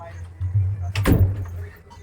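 A door in a small house is pulled shut, a single solid thud landing midway after some brief shuffling, with a low hum underneath.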